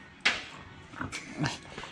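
A female dog in a garage workshop, close by, gives a sharp yelp followed by a couple of whimpering whines and short yips, loud and alone without talk.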